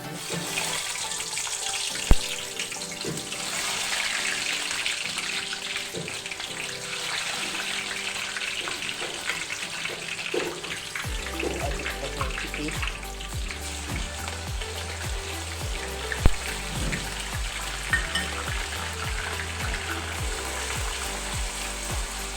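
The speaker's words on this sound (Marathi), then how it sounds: "तेल गरम झालेलं आहे. आपण आता कांदा टाकूया." Sliced onion frying in hot oil in a pan while making a Maharashtrian matki sprouted moth bean curry, a steady broadband sizzle running throughout with a couple of sharp clinks and a low hum entering midway, no talking.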